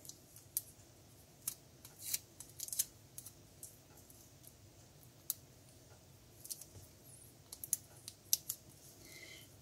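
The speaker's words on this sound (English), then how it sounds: "just grab your scissors, slice the tape open" Scissors snip and slice through tape on a shuttle tatting cabone ring, a scattering of quiet, sharp clicks and cuts at irregular intervals with no talking.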